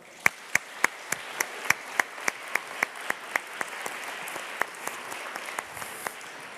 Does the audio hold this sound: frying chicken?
no